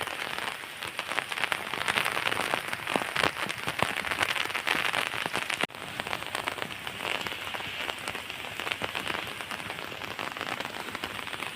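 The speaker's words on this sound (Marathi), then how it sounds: "तुम्हाला दिसत असेल पाऊस" Heavy rain pours down in a dense, continuous hiss in the Konkan region, with drops pattering on nearby surfaces and one sharp knock midway.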